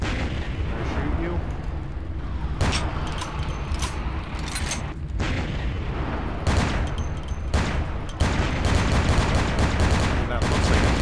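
Gunfire crackles in the video game Vampire The Masquerade: Bloodlines, a dense stream of sharp shots and booming bursts over about ten seconds, with a voice talking over the game.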